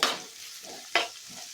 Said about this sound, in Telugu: తిరగమూత కాగిన తర్వాత ఉల్లిపాయ వేసుకోండి, కలయబెట్టుకోండి.